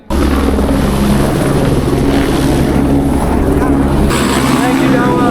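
A helicopter at the end of an Everest Base Camp trek makes a loud, steady rotor and engine roar that fills the whole stretch, close by.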